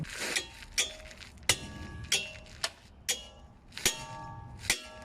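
Sharp metallic clangs of a big hammer striking the front lower ball joint area of a 2015 Toyota Corolla, about eight irregular blows with ringing decay, close and loud.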